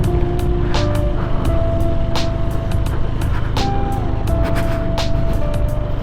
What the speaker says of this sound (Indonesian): Sekarang kita bakal test ride motor Stilo 160 yang ABS.